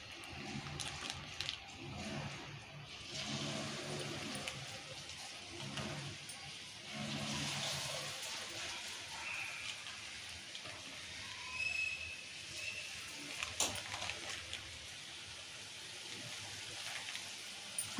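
Murukulu fry in hot oil, a soft, steady sizzle and bubbling hiss heard up close at low volume, with small crackles and pops scattered throughout and a few faint background noises.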